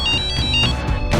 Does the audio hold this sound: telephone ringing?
yes